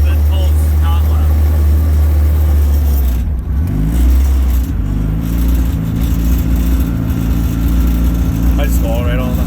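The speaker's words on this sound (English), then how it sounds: "We're going to go just take it for a cruise down the road, down the street in Mexico here." A 700 hp Honda Civic cruising down a street in Mexico, its engine droning loud and close with shifting pitch, while voices talk over it.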